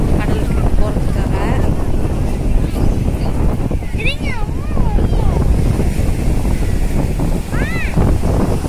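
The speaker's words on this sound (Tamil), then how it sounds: "கடலுக்கு போகுது இப்போதான் கடற்கரையில், அந்த கரையில் நிறுத்தி இருந்த பிறகு ஸ்டார்ட் பண்ணிட்டு போகிறாங்க." Fishing boat at a beach in Nagapattinam starting its engine and heading out to sea, a steady motor drone mixed with strong wind buffeting and surf, with someone talking over it throughout.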